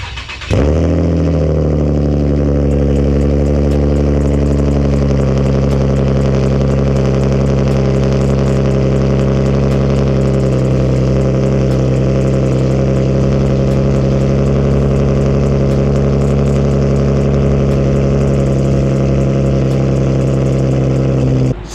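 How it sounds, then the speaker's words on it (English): An Infiniti G37 fires up from a cold start, a sharp catch and flare settling into a loud, steady, high idle that holds smoothly for around twenty seconds, heard close with no talking. "let me give you guys a little cold start"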